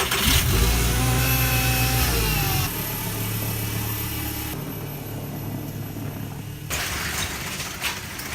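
A car engine runs and revs as it is driven out of a home garage, loud and close at first, then settling to a steadier, quieter idle-like drone.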